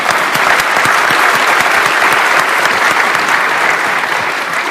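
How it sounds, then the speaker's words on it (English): Conference audience at an international meeting on small modular reactors gives panelists a sustained, loud round of applause, steady dense clapping throughout with no pauses. "And let's please give a round of applause for our panelists."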